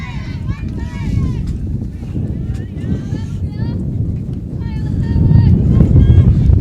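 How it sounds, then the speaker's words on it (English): Wind gusting outdoors at a rugby match ground, a loud steady roar buffeting the microphone and rising toward the end, with people talking over it. "That wind just getting up a bit more there for you."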